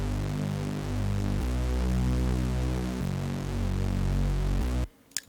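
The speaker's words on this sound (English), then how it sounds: "We have a gritty bass layer." A gritty synth bass layer playing alone, a dense buzzing low drone that steps between sustained notes in a steady loop before cutting off abruptly.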